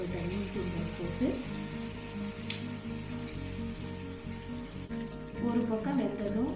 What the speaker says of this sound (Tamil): நல்ல சூடானதும் மசாலா தடவி ஊற விட்ட மீன் துண்டு போட்டு